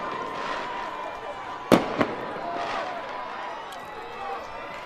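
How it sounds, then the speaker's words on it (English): Fireworks at a youth 9U football championship game between Bessemer and Ensley, with two sharp bangs close together over a steady crowd murmur and ongoing commentary. "There's the fireworks."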